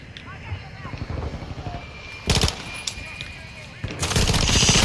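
Rapid automatic fire from a PDSW 528 in Call of Duty Modern Warfare 2 crackles in several bursts, loud and close, with game effects and a player's voice mixed in.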